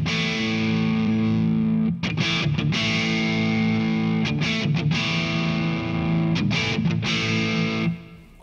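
Heavily distorted electric guitar runs through a Kemper profiling amp with the stack EQ set pre, playing loud sustained chords broken by a few brief stops and re-attacks before fading at the end, with no voices.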